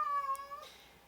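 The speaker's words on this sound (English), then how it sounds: "I apologize for the cat" A house cat gives a single drawn-out meow, fairly quiet and nearby, that fades into a soft room hush.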